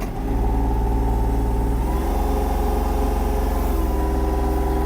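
A Kubota GL-240 mini tractor diesel engine runs loud and close, its throbbing drone shifting as the machine pulls away; no talk.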